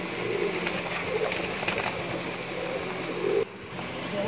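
Allahabadi high-flier pigeons coo softly in low, throaty bursts repeated a few times, against a light background murmur.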